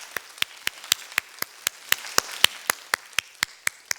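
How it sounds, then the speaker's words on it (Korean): Sparse, evenly spaced claps, roughly four per second, sound in a church during a Friday prayer sermon, each crisp and close with quiet gaps between, more like a few hands than a full congregation. "부활하신 예수님께 감사와 영광의 박수 올려보냅시다."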